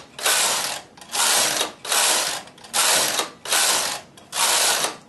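Knitting machine carriage passes back and forth six times in a steady rhythm, each stroke a loud mechanical rattling whir with short pauses between, as waste yarn is hand-fed to scrap off the work.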